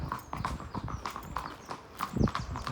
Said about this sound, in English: Some horses, look, coming along.